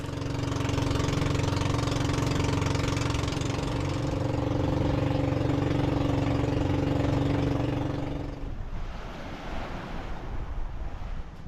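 A boat engine idles with a steady low drone and hum by turquoise water on a Philippine island, heavy wind buffeting the microphone, then the engine cuts out near the end, leaving wind and water.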